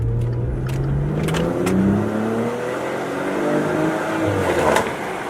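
A Maserati Quattroporte with stock exhaust runs and revs, its engine note rising and falling in smooth sweeping pitch, loud and close, with no talking.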